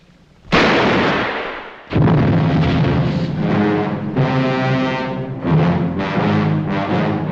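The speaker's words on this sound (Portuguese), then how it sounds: "3 tiros disparados por Norma deixam-no morto na piscina." Loud, booming bursts of gunfire in a film, three shots, a sharp crack followed by a heavier blast and sustained rumbling, with dramatic reverberation filling the scene.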